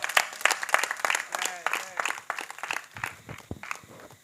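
A church congregation clapping, rapid scattered claps from many hands under a voice speaking over them, close and moderately loud before thinning toward the end.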